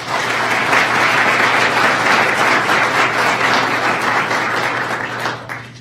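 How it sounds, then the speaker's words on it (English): Audience applauding an employee at a workplace core values recognition event, steady, full clapping from a group of people for several seconds, heard alone and tapering off slightly at the end. "Let's give her an applause"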